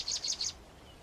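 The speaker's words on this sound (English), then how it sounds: "Unique to the region, these are Dead Sea sparrows." Three quick, thin chirps from Dead Sea sparrows near tamarisk nests in the hot Dead Sea region, faint and close together, then quiet.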